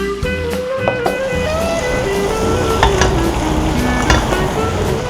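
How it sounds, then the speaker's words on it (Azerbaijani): Flour roasting in butter in a pan at a home kitchen gives a steady, close sizzling hiss with occasional soft crackles and light scraping of a stirring utensil, running evenly throughout without any talking. "Un biraz qovrulsun."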